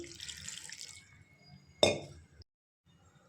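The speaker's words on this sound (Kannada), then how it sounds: "ಒಂದು ಬಟ್ಲಷ್ಟು ನೀರು ಹಾಕ್ಕೊಳ್ತೀನಿ" A cup of water poured into a pressure cooker of masoppu sambar with grated coconut, cumin and spices: a soft, close splash for under two seconds, ending in a sharp clink of metal, then quiet.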